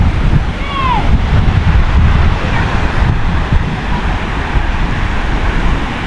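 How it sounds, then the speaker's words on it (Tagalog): Continuous loud roar of sea surf on a La Union beach, thick with wind buffeting against the microphone, with no voices. "Ang dagat ng La Union mga boss oh."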